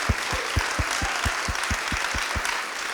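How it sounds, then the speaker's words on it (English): A town hall audience gives Lawrence Lessig a round of applause: a broad wash of crowd clapping with a regular beat of low thumps underneath, steady and fairly close throughout. "let's give Larry an enormous round of applause for leading on this issue"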